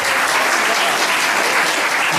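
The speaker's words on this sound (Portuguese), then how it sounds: "um salve de palmas aqui" A crowd claps in a dense, steady burst of applause at a presentation, loud and sustained with no pauses.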